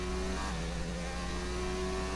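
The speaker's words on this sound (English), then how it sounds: "that MGUK is incredibly angry" Racing game car engine with a strained, angry MGU-K hybrid whine, a steady droning tone with rising harmonics held loud and continuous throughout.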